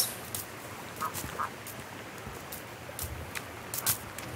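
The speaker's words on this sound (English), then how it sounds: "Look at the ducks." Ducks quack in the video game Sons of the Forest, with several short calls spread over a few seconds above a steady outdoor background hiss.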